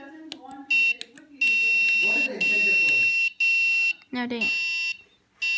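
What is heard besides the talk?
passcode alarm clock alarm sounding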